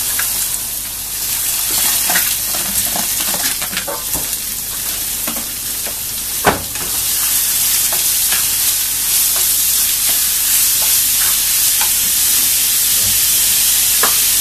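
Small chopped onions, added after ginger, fry loudly in a pan for hotel-style egg masala: a dense, close, continuous sizzle with scattered crackles and stirring clicks, including one sharp knock midway, with no talking.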